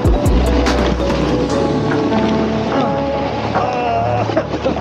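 A snowboard scrapes over hard, icy snow at Winter Park with a continuous loud rasping rumble, close and steady, carrying some wind noise and brief voices.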